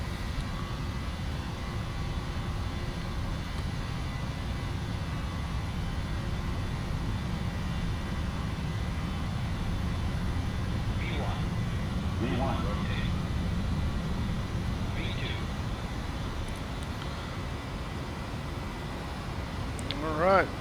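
Boeing 737-800 jet engines at takeoff power during the climb out, a steady loud low roar and rumble heard from inside the cockpit, with a few faint beeps and brief radio chatter.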